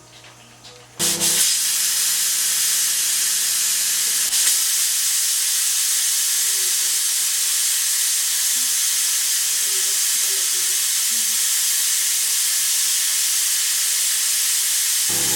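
A pressure cooker on a medium flame, cooking sambhar, releases steam in a loud, steady hiss that starts abruptly after a second and holds for the rest of the clip, with faint background sounds beneath.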